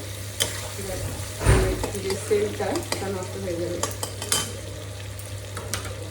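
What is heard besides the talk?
potatoes frying and being stirred in a pan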